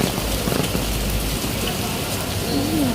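Heavy rain pours down steadily on a flooded street, a dense, constant hiss that fills the whole scene without pause, with faint background voices barely present.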